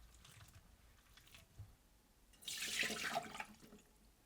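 Water splashes and trickles near the mic as raisins and cranberries are rinsed, a burst of wet sloshing in the second half after a quieter start.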